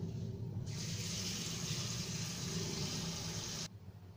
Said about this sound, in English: So, I put some water in it and then ibaban natin siya for at least 30 minutes